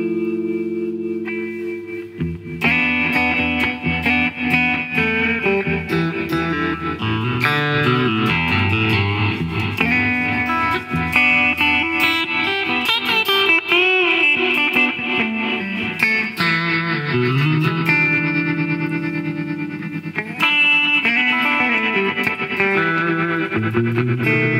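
Guitar run through an Old Blood Noise Endeavours Procession reverb pedal, with pulsing tremolo wobbling the chords inside a wide, washy reverb tail. The playing is loud and continuous, and no voice is heard.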